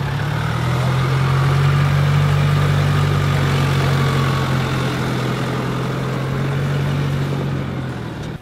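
A Jeep diesel engine idles steadily and close by, a low, even rumble with a constant drone that holds for the whole stretch and tapers slightly at the end.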